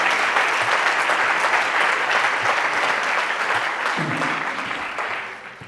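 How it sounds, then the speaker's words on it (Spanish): Sustained audience applause at a conference on addiction prevention and recovery in Macael, dense clapping from a crowd that runs loud and steady for several seconds before slowly easing off near the end. "Un aplauso para ella."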